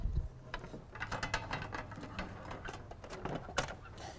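A car stereo slides into a single or double DIN dash kit, with a close, quiet run of ratcheting clicks and scrapes as the locking side tabs catch.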